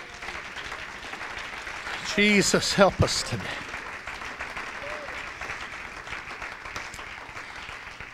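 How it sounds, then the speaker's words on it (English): A church congregation claps their hands in praise during a worship service, a steady wash of clapping heard throughout with a voice speaking over it. "Would you clap your hands unto the Lord and praise Him?"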